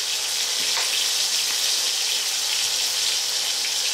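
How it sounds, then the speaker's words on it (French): Chopped onion sizzling in oil in a sauté pan, a loud, steady frying hiss that runs unbroken from start to finish with no voices. "vous ajoutez dans votre sauteuse l'oignon que vous venez d'émincer"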